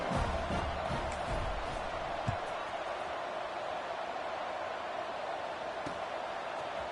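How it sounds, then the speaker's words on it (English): An American football crowd buzzes after a score, a steady, fairly faint murmur of many voices filling the stadium with a few scattered thumps beneath it. "this crowd is buzzing after that last score"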